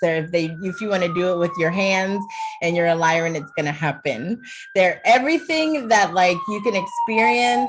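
A distant emergency siren wails with a slow falling and rising pitch, running beneath a person talking steadily up close.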